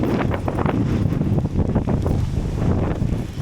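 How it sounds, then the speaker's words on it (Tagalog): Strong, gusty wind roars outdoors in Calgary, buffeting the microphone with a steady, loud rumble and rushing noise throughout, with no talking. "Sobrang lakas pa ng hangin."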